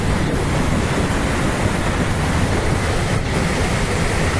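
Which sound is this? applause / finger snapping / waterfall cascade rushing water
waterfall cascade rushing water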